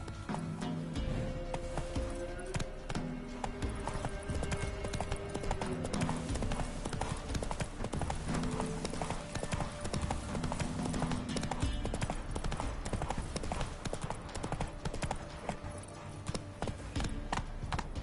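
Roach the horse gallops in The Witcher video game, fast rhythmic hoofbeats running continuously and loud, layered with game music and effects.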